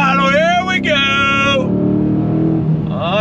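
A Dodge Challenger Scat Pack's V8 winds up under throttle, its pitch climbing, then dropping at a quick gear change, climbing again, and easing off before surging once more near the end.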